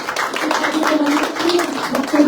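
A church congregation claps together during a worship service, a dense, steady patter of many hands close by, with a low murmur of voices running beneath it.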